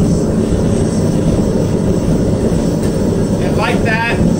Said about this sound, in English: Lighting a gas forge, you turn on your gas. This one happens to have a blower, right? And then you open your valve.